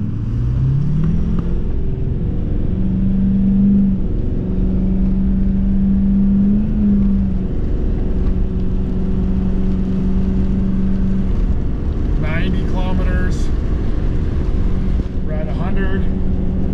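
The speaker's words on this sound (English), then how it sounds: "Now we'll do half throttle." A Ford vehicle accelerates at half throttle on a back road, its engine a steady low rumble with rising and shifting tones, close and continuous, while a voice speaks briefly near the end.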